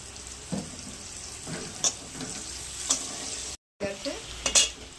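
Onion fries in a pan for egg rice, giving a steady hiss of sizzling oil with a few spatula scrapes and light clinks, close by, with a momentary dropout near the end.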